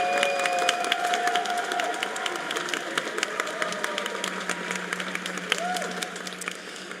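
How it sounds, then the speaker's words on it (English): Audience applause at a game awards event, a steady dense roar of clapping and cheering from a large crowd that holds at full strength throughout, with faint music beneath. "This is your applause."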